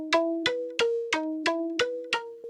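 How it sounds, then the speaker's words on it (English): A dry, unprocessed string synth patch from an OP-1 synthesizer plays seven evenly spaced plucked notes with steady tones, clear and close, with nothing else playing. "which is just a completely dry signal from the OP1,"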